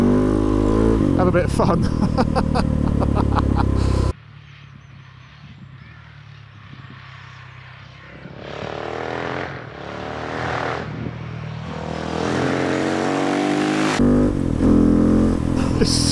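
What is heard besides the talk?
KTM 690 SMCR motorcycle revving with exhaust, baffles removed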